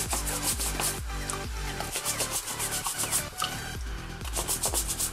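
Stiff brush scrubbing mud off an adidas X 15.1 football boot with TechFit sock, steady rapid rubbing strokes close up, repeated in bursts with brief pauses.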